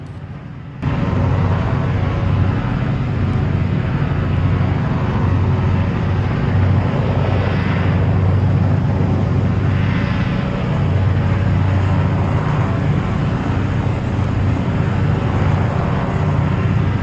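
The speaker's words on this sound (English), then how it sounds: "As you heard then, the flaps are now retracted." Simulated airliner in the Prepar3D flight simulator retracting its flaps during a scenic flight over the Menai Strait, North Wales, under a loud, steady cabin drone that runs unbroken from just after the start.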